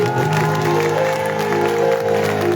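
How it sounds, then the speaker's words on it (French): An audience at a live rap concert claps continuously over loud sustained music, the applause a steady wash blended into the band's sound. "Est-ce que vous pouvez applaudir pour votre charisme?"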